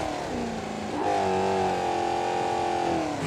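A Mustang in the BeamNG Drive video game is driven into a chain, its engine tone holding steady and then rising into a sustained revving whine, loud and close, with no talking.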